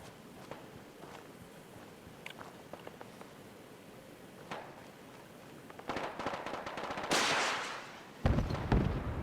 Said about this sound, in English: the sounds of gunfire was a small deterrent